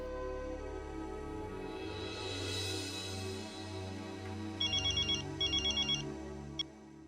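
A telephone ringtone trills in two short repeated bursts over a steady musical background in an indoor scene, followed by a click, with no talking.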